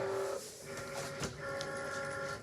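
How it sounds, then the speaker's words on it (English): A Cricut cutting machine working on a card base, a quiet mechanical whir with a steady motor tone that pauses and resumes, a short knock in the middle. "I'm just going to go put it into my machine"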